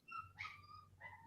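A dog whimpers in short, high, thin whines, two or three plaintive cries close by in a quiet room.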